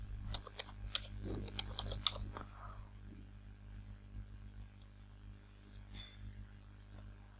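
Keys tapped on a computer keyboard while entering text in Microsoft Word, a burst of quick close clicks at first that thins to scattered taps over a low electrical hum.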